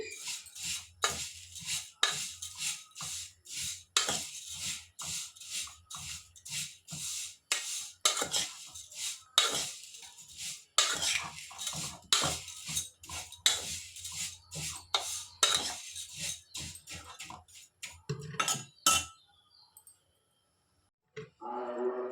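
Dry vermicelli being stirred and roasted in a pan, giving repeated scraping and rasping strokes of a spoon against the metal in an irregular rhythm, fairly close, then stopping near the end.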